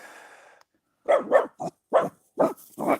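A dog barks five times in quick, uneven succession, close and fairly loud, after a brief faint sound at the start.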